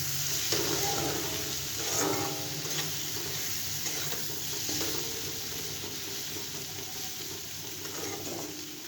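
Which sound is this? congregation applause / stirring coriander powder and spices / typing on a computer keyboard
stirring coriander powder and spices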